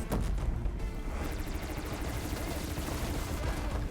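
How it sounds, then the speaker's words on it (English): A Ravager machine in the game Horizon Forbidden West lets loose a dense, continuous barrage of missile fire and explosions, loud and close, with faint mumbled talk under the din. "I don't know why it just keeps locking on with missiles."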